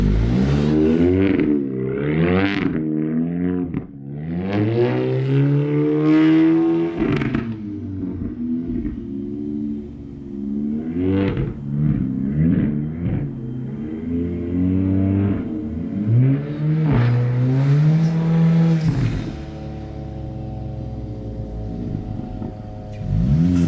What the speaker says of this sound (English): do a little loop-de-loop-loops, whatever drifting thing